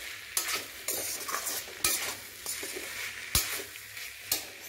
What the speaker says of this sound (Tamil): இப்போ கொஞ்சமாக தேங்காய் போட்டு ஒரு கரட்டு கரட்டிக்கலாம்.